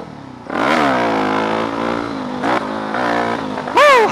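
A supermoto motorcycle engine revs hard while being ridden, rising and falling through several loud, close throttle blips, with a sharp high rev near the end.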